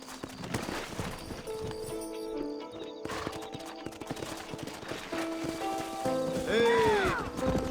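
Horse hooves clip-clopping in the western video game Red Dead Redemption, steady close hoofbeats under rain-like patter and music, ending with a loud neigh.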